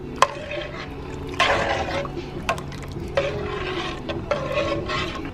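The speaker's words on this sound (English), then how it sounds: "I'm going to take this liquid, this Zatarain's shrimp crab boil, and pour a little bit in there. I'm going to go ahead and stir this up." Zatarain's shrimp crab boil liquid being stirred into a pot of water, heard as close, intermittent sloshing and scraping swirls with a sharp clink at the start and several stirring strokes spread across the clip, no talk.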